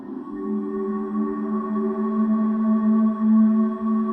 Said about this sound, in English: you should be able to hear now this beautiful reverb, convolution reverbs.